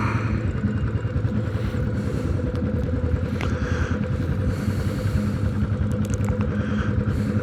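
A Royal Enfield Classic 500 motorcycle on the road gives a steady, loud thumping engine rumble with wind and mechanical clatter throughout, with no gear changes or pauses.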